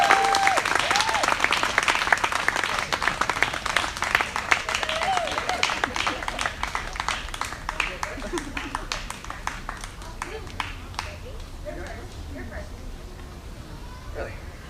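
Applause and clapping from an audience at a memorial gathering, dense and sustained at first, then thinning toward the end, with voices talking and calling out over it.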